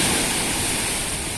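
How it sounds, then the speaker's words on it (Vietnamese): Ocean waves on the hotel beach at Flamingo Cat Ba make a steady, loud wash of surf with no break and no voices. "Hiện tại thì mình đang ở bãi biển của khách sạn Flamingo Cát Bà"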